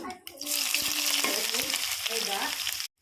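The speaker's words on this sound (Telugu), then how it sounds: "మిరపకాయలు ఉల్లిగడ్డ ఇవి ఇట్లా ఎర్రగా వేయించుకోవాలి" Dried red chillies and thinly sliced onions fry in hot oil with cumin and mustard seeds in a kadai, a loud, dense, continuous sizzle with occasional stirring scrapes that cuts off abruptly at the end.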